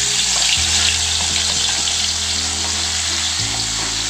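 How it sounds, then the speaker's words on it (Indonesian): Spice paste frying in hot oil, a loud, dense, continuous sizzle and crackle that fills the whole stretch, with steady hiss and no voices. "langsung aja kita masukkan semua bumbunya ya"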